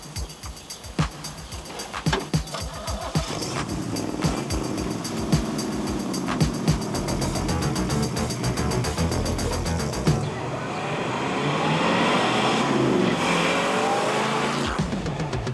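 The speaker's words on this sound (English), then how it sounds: "the deal was I wash the car, but I also get a ride in it" A 1934 Plymouth car is driven along a road, its engine running steadily and loudly with occasional bumps and clunks, then the sound shifts to a smoother, rushing drive.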